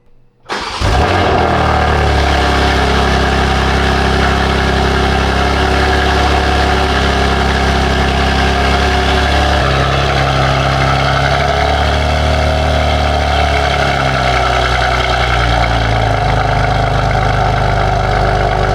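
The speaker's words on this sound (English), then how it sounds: "This is the best sounding exhaust I've ever heard." A BMW M4 Competition with a prototype exhaust fires up and settles into a loud, steady, rumbling idle, heard close and alone throughout.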